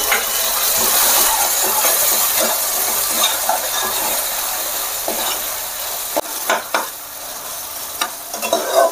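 Cashew paste masala with raisins and melon seeds is stirred and fried in oil, giving a loud continuous sizzle with scraping strokes throughout and a few sharper utensil knocks toward the end.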